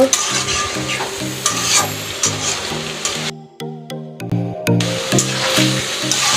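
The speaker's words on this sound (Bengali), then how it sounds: "দিয়ে জালটা একটু জোরে দিয়ে টমেটোটা কষাই নিব।" Tomato stir-fried over high heat in a fish curry with brinjal and potato, a steady close sizzle with repeated spoon scrapes against the pan and a brief quieter gap partway through.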